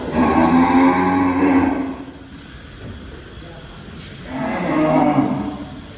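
Cattle at a Qurbani livestock market give two long, loud, close moos separated by a quieter pause with faint background noise.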